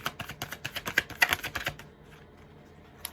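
Tarot cards shuffled by hand give a quick run of crisp, papery flicks and taps for nearly two seconds. Near quiet follows, with one faint tap near the end.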